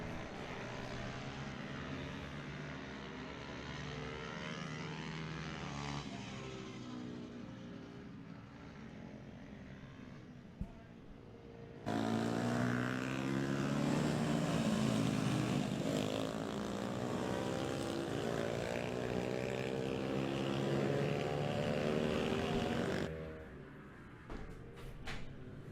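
140cc pit bikes racing around the Whilton Mill kart track, with a steady engine drone that jumps louder midway as bikes pass close, then fades back toward the end.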